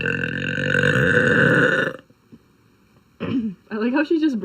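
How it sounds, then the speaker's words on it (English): A girl lets out a long, loud, rumbling burp lasting about two seconds, followed by a pause and then voices of friends talking and laughing close by. "I like how she just burps"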